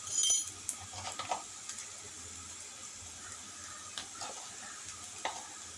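Onion browning in a pan for a tomato small-fish curry, with a faint steady sizzle, occasional stirring scrapes and light utensil clinks, close and quiet, no talking.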